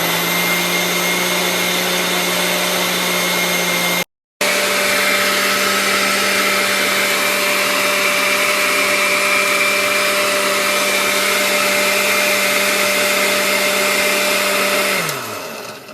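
A blender mixes Moroccan baghrir pancake batter with a loud, steady motor whine. It cuts out briefly, then runs continuously for a long stretch and winds down at the end.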